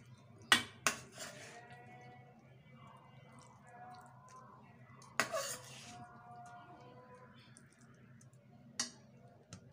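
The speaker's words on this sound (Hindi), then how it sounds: "ये देखिए अब हम इसे निकालेंगे डिश में" Cooked masala bhindi is served from a pan into a dish, with a few sharp clinks of a utensil against cookware, one early pair and another midway, over a faint low hum and quiet scraping.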